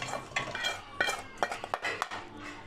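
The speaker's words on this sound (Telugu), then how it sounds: "మనం వేయించిన ముక్కలు బౌల్లో వేస్తున్నానండి." Fried chicken pieces for a chicken pickle are scooped from the pan into a bowl, with brief metallic clinks, scrapes and clatters of a spoon against cookware, close and fairly quiet, no talking.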